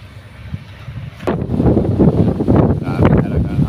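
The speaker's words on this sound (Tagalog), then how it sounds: "Grabe talaga ang hangin" Strong wind buffeting the microphone in loud gusts, with a rumbling roar that swells and stays heavy, like gusty weather by the shore.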